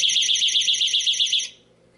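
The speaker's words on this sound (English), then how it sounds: "a 100 decibel siren will sound for 30 seconds" A vibration-triggered door and window alarm blares its 100-decibel siren as a loud, rapidly pulsing electronic warble, steady for about a second and a half before cutting off abruptly.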